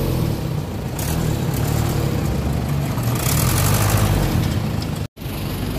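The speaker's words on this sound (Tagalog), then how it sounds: "ayun po yung kanyang motor." A motorcycle engine running nearby at a crowded night market, a steady mid-pitched hum that swells slightly before cutting out abruptly near the end.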